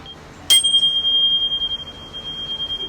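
A single bell rings out once with a bright, clear strike and then a long, sustained ringing tone that slowly fades. It opens a guided relaxation and breathing exercise, with no talk.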